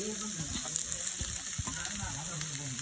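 Vegetables sizzling and frying in a pan as shredded cabbage goes in with beetroot, carrot and capsicum for Bengali-style chowmein, a steady close crackle with soft stirring scrapes.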